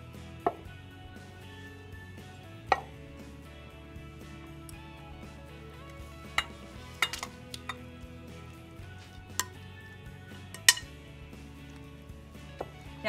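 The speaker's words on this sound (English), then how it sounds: "now we're gonna transfer our mixture to this 8x8 casserole dish." A green bean and mushroom Alfredo mixture is scraped and spooned into an 8x8 casserole dish, giving scattered soft clinks and taps of utensil on dish at an irregular pace, close and quiet.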